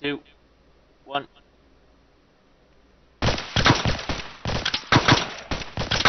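A short spoken countdown, then sudden sustained automatic gunfire in the video game SOCOM, loud bursts of rifle fire that continue to the end.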